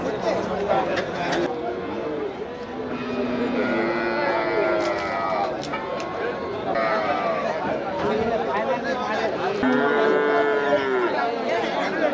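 Native cattle at the Melapalayam cattle market low and moo repeatedly among a crowd, with drawn-out calls rising over constant chatter and nearby voices.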